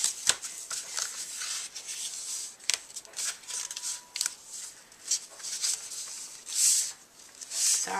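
A bone folder scores and folds card for a tissue box cover, giving close, scratchy rubbing strokes and paper creasing in uneven bursts, with no talk.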